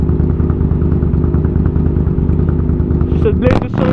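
A cruiser motorcycle idles nearby with a loud, steady, lumpy rumble, and a rev and popping burst near the end; voices can be heard alongside.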